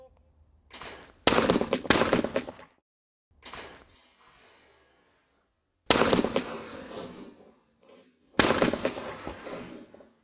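Four loud, sharp shotgun blasts at clay targets on an outdoor range, firing in two pairs with the sustained ring and echo after each, plus quieter sounds between them.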